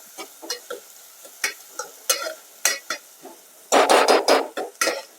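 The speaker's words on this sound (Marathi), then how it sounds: "कांदा लालसर होईपर्यंत परतून घ्यायचा आहे." Onions are sautéed in hot oil in a home kitchen for Maharashtrian mutton rassa: a spoon scrapes and stirs the pan in scattered close taps, then a louder burst of sizzling and frying swells briefly before fading back to stirring.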